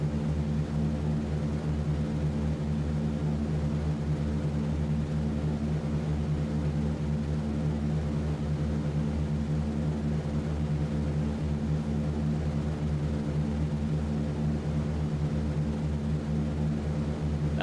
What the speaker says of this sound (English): Cleared for takeoff.